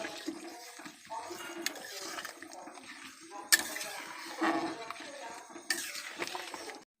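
A cornflour slurry is poured bit by bit into a pan and stirred while making vegetable momos. Short liquid splashes come with metallic clinks and scrapes of a utensil, in uneven bursts at close range.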